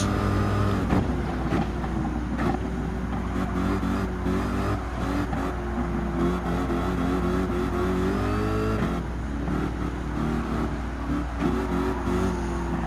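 Gran Turismo 7 race car engine during a driving endurance mission, roaring and revving continuously at close range, with gear changes and shifting pitch, loud and without any talk.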